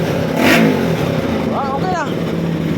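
A fuel-injected Bajaj Rouser RS200 motorcycle with a hose-related misfire is revved up close, one throttle blip rising and falling over a steady running engine, with a brief voice in the middle.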